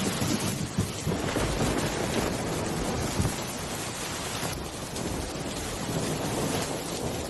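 Heavy rain pouring over a flooded cartoon village, a dense, steady roar with low rumbling like distant thunder, constant and loud throughout with no speech.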